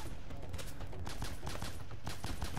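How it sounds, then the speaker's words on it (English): Pistol shots in Bionic Commando (2009) pop repeatedly at a steady clip, buried in a loud, continuous wash of game noise and effects. "That's right, I'm sniping with a pistol."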